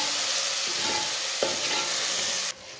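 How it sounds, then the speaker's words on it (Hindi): Tomatoes and whole green chilies frying in a pan for village-style kadhi pakora give a steady, close sizzle with a few stirring scrapes, dropping to a softer hiss near the end. "टमाटर को भी 1 मिनट तक पका लिया मैंने।"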